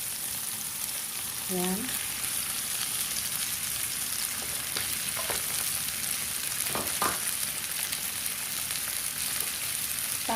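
Rice frying in a hot pan for beef fried rice, a loud, continuous close sizzle with occasional scraping stirs, while a voice briefly speaks over it.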